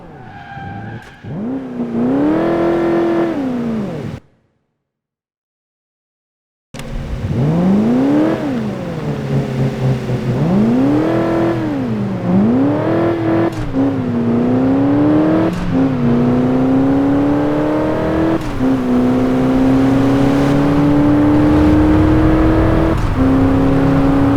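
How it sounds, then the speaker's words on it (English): A race car engine in Crash Time 4 revs hard and climbs through gear after gear, with loud tire skids and a brief silent gap before the acceleration resumes and keeps droning close and steady. "Hey Ben, where'd you find a competition engine?"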